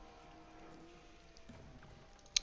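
Horse archers' hooves clop quietly in the Age of Empires video game, a faint rapid patter of horse footfalls under low game ambience, ending with a sharp click.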